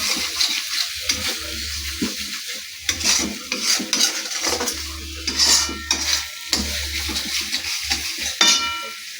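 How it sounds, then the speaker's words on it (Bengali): A spoon scrapes and stirs in a pan as spice masala with mango pickle is stir-fried, steady sizzling under repeated metallic scraping strokes, close and clear. "তারপরে ভালো করে মশলাটা আমি কষবো।"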